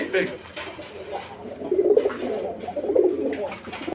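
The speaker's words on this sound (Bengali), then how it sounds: "আমরা এই মুহূর্তে দেখতে পাচ্ছি এখানে আরও একটা সিঙ্গেল কবুতর" Soft, low cooing from pigeons repeats several times at close range, with faint chirps and background murmur around it.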